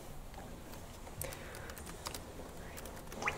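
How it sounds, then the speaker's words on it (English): Typing on a computer keyboard at a desk, a sparse run of faint, irregular key clicks over a low background hum. "now it's time for me to embarrass myself with the keyboard"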